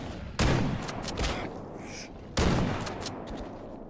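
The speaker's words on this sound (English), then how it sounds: "Someone's got an auto shotgun." Auto shotgun fire in S.T.A.L.K.E.R. Gamma, heard as two loud, heavy blasts about two seconds apart, each with a short decaying tail.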